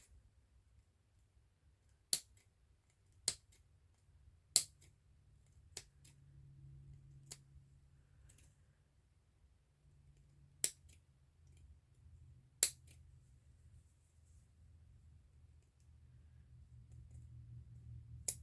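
Scissors cut out fabric in a quiet room, making about eight sharp, separate snips at uneven intervals over faint low background hum.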